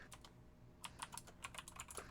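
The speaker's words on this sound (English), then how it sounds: "can you hear me typing?" Rapid typing on a computer keyboard, with irregular clusters of crisp key clicks that come close and fairly loud over a low background hum.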